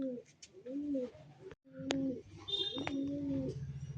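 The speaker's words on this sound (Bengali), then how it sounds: "পায়রা দুটো দেখে নিন।" Young pigeon squabs in a loft give soft repeated coos and gurgling calls, close and fairly loud, with a brief pause midway before the cooing resumes alongside a sharp chirp or two.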